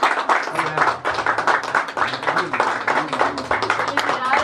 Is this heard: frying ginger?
no